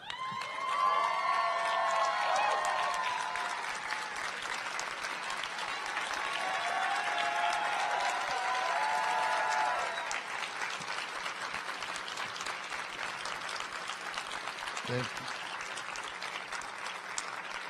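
Graduation audience gives a standing ovation: loud, dense applause from a large crowd, sustained for about ten seconds with some cheering, then thinning to scattered clapping.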